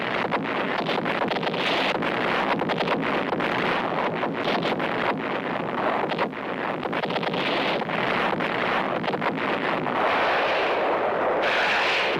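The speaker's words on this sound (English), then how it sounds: "a naval bombardment opens up on the enemy's coastal defenses" Naval bombardment of coastal defenses on D-Day, a continuous roar of heavy gunfire and rumbling blasts under steady wind, loud and unbroken.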